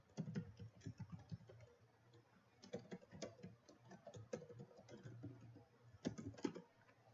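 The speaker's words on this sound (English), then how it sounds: "I'll type it in here." Quick, irregular clicking of keys on a computer keyboard goes on without a break, close and fairly quiet, with no talk over it.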